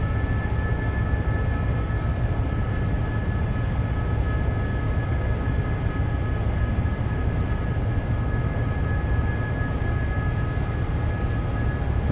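A heavy freight train laboring uphill in Train Simulator 2017, a steady dense engine drone and rumble with faint tonal whine held constant throughout, no voices.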